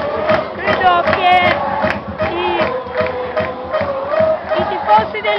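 Liberty Molfetta football supporters across the pitch chant and shout in rhythmic, pulsing bursts, a dense crowd roar sounding from a distance with steady beats running throughout.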